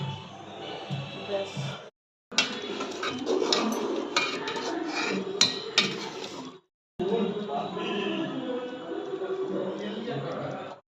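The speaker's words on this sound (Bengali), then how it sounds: "মশলাটা সব দিয়ে দিলাম এবার একটু ভালো করে নেড়ে দেবো" A spoon stirring khichuri with spices in a cooking pot, scraping and knocking against the metal in bursts separated by short silent pauses, with a voice faintly present.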